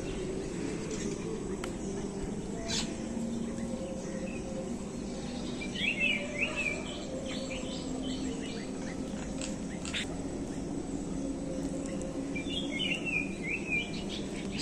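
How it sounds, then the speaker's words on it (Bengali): Many birds, including mynas and doves, chirp and call outdoors on a cool morning after rain, scattered bright tweets over a steady low background hum, some calls nearer and others farther off. "অনেক পাখি এসেছে"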